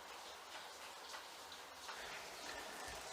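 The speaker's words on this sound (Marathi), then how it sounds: "आता मुसळधार पावसाला सुरुवात झालेली आहे" Heavy monsoon rain falling outside, a steady faint hiss with scattered drip-like ticks throughout, no voices.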